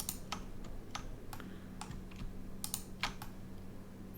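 Computer keyboard keys pressed for a Control E shortcut while working in Blender 2.8: a quick scatter of sharp, quiet clicks with uneven rhythm, close up, over a faint steady hum, no talking.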